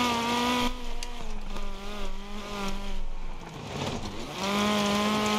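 A rally car engine in the game Dirt Rally, with a gearbox warning lit: it revs loud and close, its buzzing pitch climbing and dropping through gear changes, then settling into a high steady drone, with no voices.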